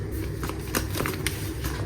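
Coffee package being torn open along its new tear strip, which works like a zip bag: crinkly rustling and several short sharp rips over about two seconds, close and steady, with no talk.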